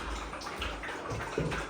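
Water sloshes and splashes in a tub as golden retriever puppies are bathed, a close, continuous wet swishing with a few brief gurgles.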